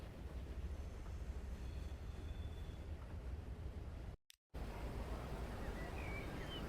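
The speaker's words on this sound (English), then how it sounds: "there she is, the train to Sheffield" A passenger train bound for Sheffield in a railway video game gives a steady, dense rumbling wash that cuts out abruptly for a split second, then resumes just as loud.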